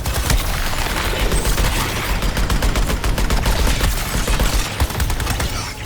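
Rapid, sustained energy-cannon fire in the video game Suicide Squad: Kill the Justice League, a loud, continuous barrage of repeated shots and booms with no break throughout.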